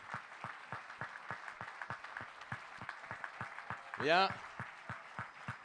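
An audience at a District 1650 conference applauds with steady, evenly paced clapping throughout, fairly quiet and distant, while a voice briefly speaks over it near the end.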